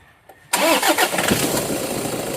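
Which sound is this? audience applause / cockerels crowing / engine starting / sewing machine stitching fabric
engine starting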